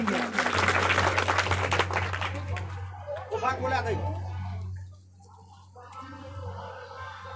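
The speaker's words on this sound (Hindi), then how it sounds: "मैं बराती और सराती से निवेदन करूंगा कि इन दोनों का तालियों से स्वागत करेंगे।" Guests greet a bride and groom with clapping at an Indian wedding, a dense burst of applause that fades after a few seconds beneath a steady low hum, followed by talking.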